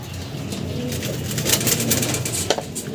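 Pigeons cooing at a loft during a pigeon racing event, soft coos mixed with wing flutters and bird calls over a steady outdoor background hum.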